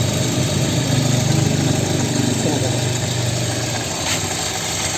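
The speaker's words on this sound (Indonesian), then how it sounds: "kita dengarkan suara mesin dari suara mesin mobil ini. Suaranya masih halus." A used Suzuki Swift car idles close by with a steady, smooth low engine hum and even vibration, no revving, running continuously for the whole stretch.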